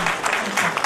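Audience clapping at a national technology innovation awards ceremony, a brief, dense burst of steady applause with a voice faintly audible underneath.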